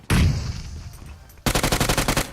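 Gunfire in a battle royale video game: one loud blast that fades, then after a short gap a rapid automatic burst of about ten close, sharp shots, with no talk.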